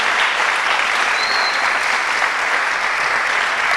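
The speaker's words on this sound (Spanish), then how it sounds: "Yo no sé si usted le da el aplauso al Señor" A church congregation applauds the Lord during a communion service, a loud, dense, continuous clapping from many people nearby that holds steady for a few seconds.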